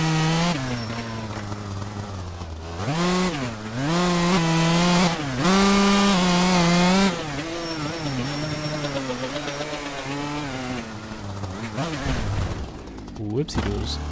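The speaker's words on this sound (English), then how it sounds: "I'm going to turn up the volume on the two-stroke." A two-stroke dirt bike engine in the MX Bikes game at Glen Helen, revving loudly up and down with rising and falling pitch sweeps, a strong steady drone through the whole stretch, with a brief drop near the end.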